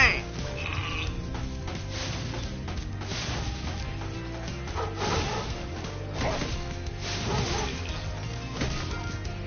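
Sheep bleats from a boss fight in the Spyro the Dragon video game, repeated over a dense, steady bed of game music and effects at constant loudness.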